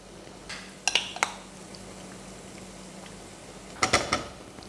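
Yogurt being stirred into lamb rogan josh in a pan, heard as a few close clinks and scrapes of utensil against the pan at the start and again near the end, over a quiet low hum.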